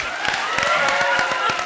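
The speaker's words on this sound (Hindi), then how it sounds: "तो जोरदार तालियां बजाओ दिल के लिए।" A studio comedy show audience claps in a dense, steady round of applause at close range that runs through the whole moment, with voices mixed in over it.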